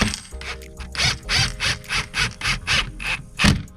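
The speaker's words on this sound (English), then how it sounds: "we just finished screwing 5 of these silver bolts down into the centerpiece of the diffuser" Silver bolts are being driven into the centerpiece of a Genesis Coupe street aero diffuser, with a rhythmic series of about eight ratcheting clicks in quick, even succession, close up and alone.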